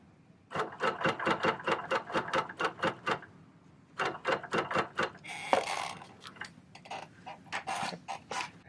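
A Bernina Q16 sit-down longarm quilting machine sews a quarter-inch basting stitch in two runs of evenly spaced, clicking needle strokes, close and clear, followed by brief handling and whirring noises.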